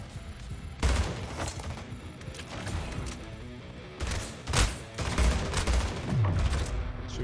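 Rapid bursts of gunfire in the Splitgate shooter game, loud and dense, with sharp explosive peaks around the one-second and four-and-a-half-second marks, continuing almost without pause throughout.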